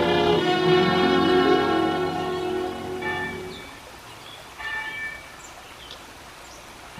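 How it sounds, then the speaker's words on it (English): A church bell clangs as a sound effect in an old-time radio drama, one loud ringing strike that slowly fades, followed by fainter, shorter tolls alone against quiet background hiss. "every day the winds carried you the clanging of the church bell"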